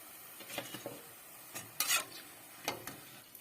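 Garlic pampushky dough buns frying in oil, a faint sizzle broken by a few sharp clinks and scrapes of a utensil against the pan.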